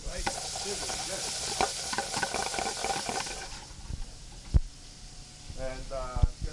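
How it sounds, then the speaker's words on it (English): Shrimp sizzle in a hot pan while browning, a steady crackling hiss with stirring and scraping, heard close and moderately loud, fading somewhat near the end, with no voices over it. "You can hear sizzling already."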